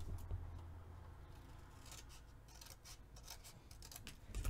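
Scissors snip away excess material while a garden journal is being decorated: soft, close cutting and rubbing sounds in a quiet room, with a few brief crisp snips toward the end and no talk.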